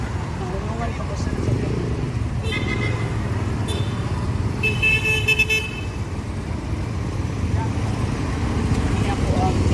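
Road traffic on Calipit Road at night: a constant rumble of engines with several short car horn toots, one longer honk midway, and voices talking underneath.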